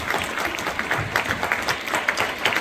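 A crowd at a gala for the Peñas de Burgos clubs claps steadily, dense applause holding at an even level throughout with no pauses.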